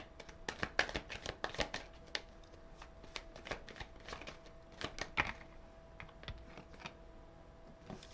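Tarot cards are shuffled and pulled from the deck in a quiet room, a close run of crisp riffling flicks and taps coming in irregular clusters.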